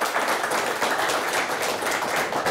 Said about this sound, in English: A nice round of applause for Manistee High School